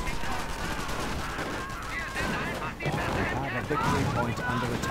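Video game gunfire rattles in continuous bursts as Grenadiers are gunned down, a dense, loud barrage layered with battle noise and some talk.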